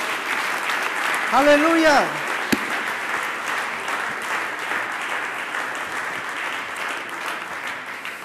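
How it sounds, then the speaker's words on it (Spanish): Church congregation applauding steadily for several seconds, a dense wash of clapping from a crowd while a preacher briefly shouts over it near the start. "Denle un gran aplauso al Señor."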